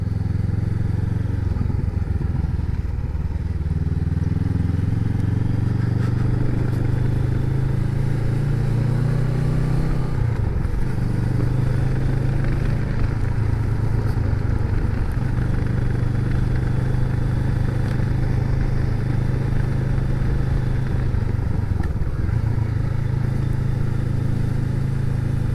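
A Honda Rebel 500 motorcycle engine drones steadily throughout a ride in Wales, loud and close, with gentle swells and dips in pitch as the rider shifts and changes speed. No voices are heard.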